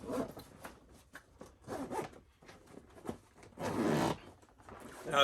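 A bag zipper on a portable hydrafacial machine case pulled in several quick, rasping strokes, close by, with short pauses between pulls and a longer, louder zip near the end.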